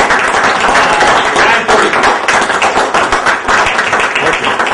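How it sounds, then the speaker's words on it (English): A seminar audience gives a standing round of applause, loud close clapping that stays dense and sustained, with individual hand claps audible within the crowd. "let's all stand for a moment and give a round of applause for Dave"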